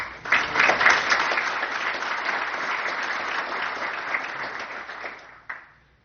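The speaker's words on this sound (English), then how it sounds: "give yourself a round of applause" Conference attendees at a rural summit opening session give themselves a round of applause, a steady close wash of many hands clapping that swells quickly, holds for about five seconds, then stops abruptly.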